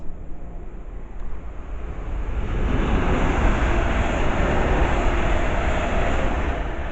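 A pair of Class 350 electric multiple units pass through North Wembley station on a Crewe to London Euston service, a broad rushing roar swelling from a quieter start and holding loud and steady to the end.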